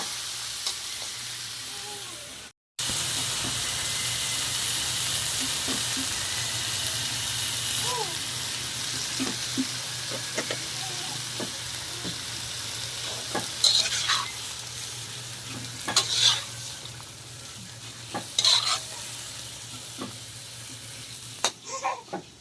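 Squid adobo sizzles loudly in a pan just after soy sauce is poured in, a steady hiss with stirring scrapes and a few sharp clinks of the utensil, under a low background hum.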